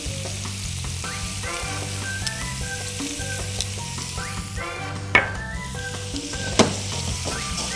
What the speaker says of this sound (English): I'm gonna add a little bit of butter to the salmon.